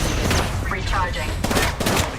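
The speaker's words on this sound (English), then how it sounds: "I'm getting shot at. I'm down. I'm under fire." Rapid gunfire bursts in a futuristic multiplayer shooter video game, loud and continuous with dense overlapping shots and no clear pauses.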